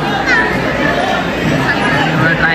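Dense crowd chatter fills a packed temple in Akkalkot or Tuljapur, a steady, close hubbub of many overlapping voices with no pauses.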